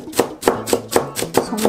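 A knife chops finely through 120 g of onion on a board, six or so crisp, evenly spaced strikes in a quick steady rhythm, close and clear with no talking.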